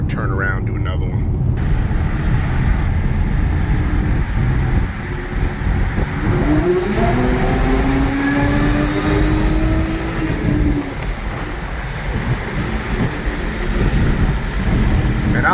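Audi A6 3.0T with a Gibson anti-rasp muffler drives past, its exhaust a loud, steady drone that rises as the engine revs, while a person talks over the engine noise.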